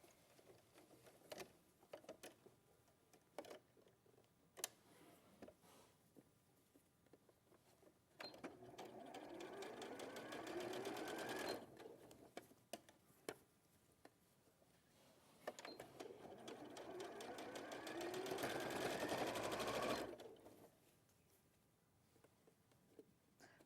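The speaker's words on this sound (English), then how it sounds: "I'm gonna sew around it, but leave a gap that about 1 inch" Sewing machine stitching around a fabric hem, leaving a gap to thread elastic through: two long bursts of steady mechanical whirring, each several seconds, separated by quieter pauses with faint handling clicks.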